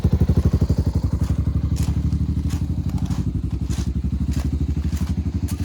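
A three-wheeler ATC's small engine runs on its own after a carburetor clean and fresh fuel, putting out a loud, close, steady rapid thumping idle with light mechanical clatter over it.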